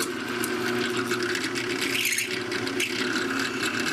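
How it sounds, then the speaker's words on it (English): Steady mechanical whirring and grinding of a drill press with a countersink bit deburring a hole in metal, continuous and fairly close for a few seconds. "a countersink bit here in the drill press, and we're just going to use that to deburr this hole"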